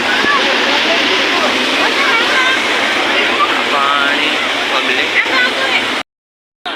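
Floodwater rushes loudly and steadily through a temple fair in the rain, a dense continuous roar, then cuts off abruptly near the end.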